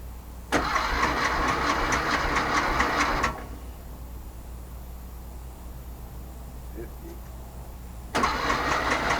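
A VW Sterling kit car engine cranks in two bursts, a loud rapid rhythmic churning for about three seconds, a quiet pause, then a second crank starting up near the end.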